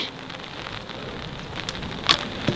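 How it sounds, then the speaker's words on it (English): Rain coming down quite hard on an open golf course, a steady broadband hiss of drops close by, with a couple of brief louder patters near the end and no talk over it. "Well, the rain is coming down now. It's raining quite hard."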